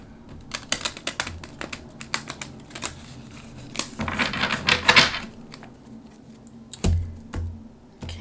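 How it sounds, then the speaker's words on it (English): Tarot or oracle cards being shuffled by hand, with irregular crisp taps and snaps, a brief flurry of riffling in the middle, close and quiet. "Sorry, it's hard to shuffle."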